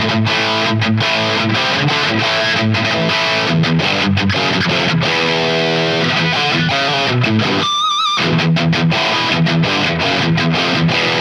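Electric guitar played through a heavily distorted amp simulation from STL Tones AmpHub, loud, saturated chords and sustained notes with a short pitch-bending squeal near the middle, no talking.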